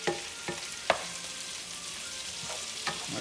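Sausage pieces and garlic sizzle in a frying pan as they are stirred, a soft continuous fry broken by a few sharp utensil scrapes and taps, close and fairly quiet with no talking.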